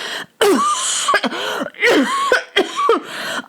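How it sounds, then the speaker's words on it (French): Hoarse, rasping coughs come in several rough bursts with short gaps, loud and close, with no speech. "une toux rauque les secouait par intermittence"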